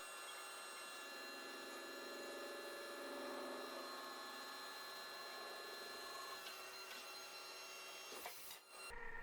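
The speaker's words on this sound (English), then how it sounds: "A flat copper disc spins against a forming mandrel, slowly shaped by steady tool pressure." A copper disc spins against a forming mandrel under steady tool pressure in metal spinning, giving a steady, bright whirring drone with tonal ringing that holds evenly for several seconds before a brief clatter near the end.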